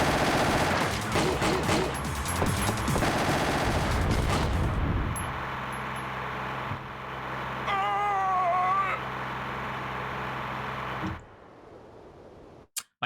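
Game gunfire from Winback on PS3, a boss fight against a minigun-wielding enemy: dense, loud bursts of shots fill the first seconds, then a sustained mechanical whir with warbling tones continues before cutting off.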